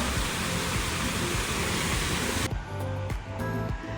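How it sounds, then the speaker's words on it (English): Sequoia Falls in Georgia's Blue Ridge Mountains gives a steady, broadband rush of falling water that fills the first few seconds. The roar then drops away abruptly, leaving quieter sounds with a few faint knocks. "This is Sequoia Falls."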